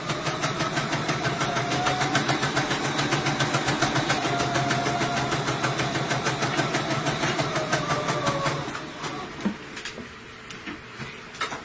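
A sewing machine runs fast and steady, stitching a 1/4-inch seam on a quilted monogram, a dense rapid needle rhythm close by for about eight seconds before it slows and stops, leaving scattered handling clicks.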